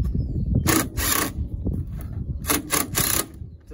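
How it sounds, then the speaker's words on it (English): Self-piercing screws are power-driven through the fiberglass housing of a water filter, giving two or three short, loud bursts of whirring and grinding separated by brief pauses. "you can use these self-piercing screws to go straight through the fiberglass on the filter"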